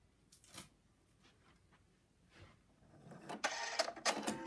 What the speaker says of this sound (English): And now it's going to stitch the outline again